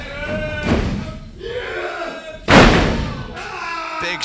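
A wrestler crashes onto the ring mat at a live wrestling show in Woolmer Green. One heavy, loud slam lands midway, under a commentator's voice and a murmuring crowd.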